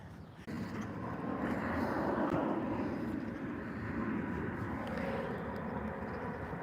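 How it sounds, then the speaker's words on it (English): A Delta Boeing 767 airliner passes overhead as a steady, broad jet roar that swells after a brief lull and holds at a moderate distance, with no talking. "That's a Boeing 767. That's a Delta 767."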